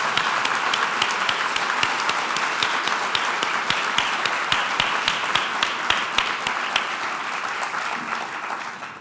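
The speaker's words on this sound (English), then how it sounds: "I hope the rest of you will join me in a round of applause" Sustained applause from an audience at an education report card presentation, steady dense clapping with sharp individual claps throughout, fading slightly at the end.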